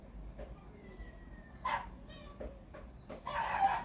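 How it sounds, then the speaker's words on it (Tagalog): Several dogs bark in short bursts, some nearby and loud, with a rooster-like call and other outdoor noise in the background. "Maingay naman sa paligid ko yung mga aso na ito."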